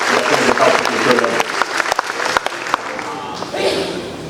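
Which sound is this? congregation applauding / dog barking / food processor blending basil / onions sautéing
congregation applauding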